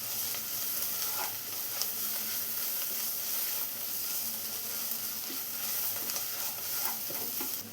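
Ginger, garlic and turmeric powder sauté in a pan for a country-style chicken curry, a steady soft sizzle with occasional scraping stirs, quiet and close, no talking.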